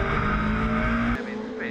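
Legends race cars brake hard into a corner at Snetterton circuit, with loud engine roar dropping sharply and a brief tyre squeal, as a commentator talks over the action.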